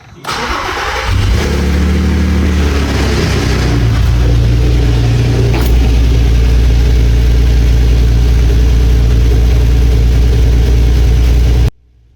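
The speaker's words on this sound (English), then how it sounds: "So what you're going to do is just start the engine for 30 seconds." An Audi TT 3.2 VR6 engine cranks and catches, then settles into a loud, steady idle that runs until it cuts off abruptly near the end.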